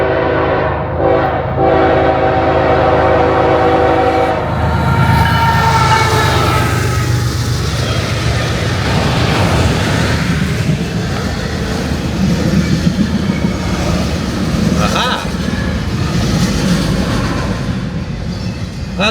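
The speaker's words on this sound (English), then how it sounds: "I was hoping to see a train." A train rolls through a small Georgia town, its horn sounding loudly at the start. A long, continuous rumble and clatter of rail cars follows, close by and steady throughout.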